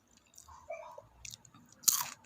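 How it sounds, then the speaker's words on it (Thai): Crispy fried egg-filled squid being bitten and chewed up close, a few soft crunches building to one sharp, loud crunching bite near the end, with quiet murmurs in between. "ความกรอบของปลาหมึกไข่"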